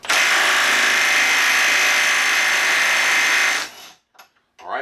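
A Milwaukee M12 Stubby impact wrench on mode 3 hammers loose a fastener torqued to 130, a loud continuous close-up rattling whir lasting over three seconds, then cutting off to near silence with a faint clunk or two.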